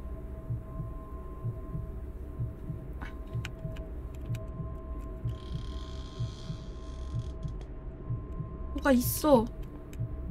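The Welcome to Kowloon horror game plays a steady, muffled heartbeat over a low ambient drone. A voice speaks briefly over it, a faint hiss passes, and a short rising sound arrives near the end.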